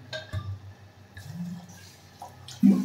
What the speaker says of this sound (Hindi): इसमें गिर देंगे हम थोड़ा सा पानी